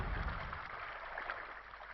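Water draining with a low rumble in the video game Myst, a steady broadband wash with deeper rumbling strongest at the start, continuous and moderately faint.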